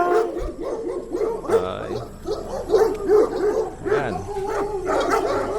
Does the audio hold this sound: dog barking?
yes